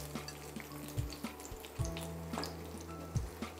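Potato pieces shallow fry in hot oil for a Spanish tortilla, a faint, steady sizzle with soft watery hiss and occasional low knocks underneath.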